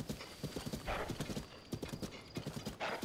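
Horse hooves clip-clop in a quick, steady trotting rhythm in the video game The Legend of Zelda: Tears of the Kingdom, close and clear over a faint background.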